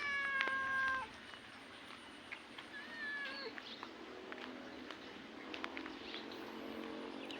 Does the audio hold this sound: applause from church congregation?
no